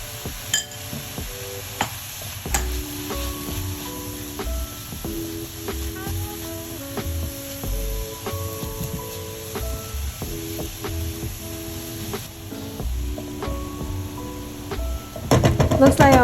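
Chopped vegetable filling with chives and salt frying in a pan for a vegan Chinese pancake, heard as a faint sizzle with frequent light clinks and scrapes of a utensil stirring against the pan, under background music.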